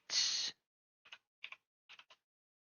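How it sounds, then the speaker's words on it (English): Several separate keystrokes on a computer keyboard, small crisp clicks in short clusters after one longer burst of noise, close and quiet with no talking. "So let's go ahead and type that in."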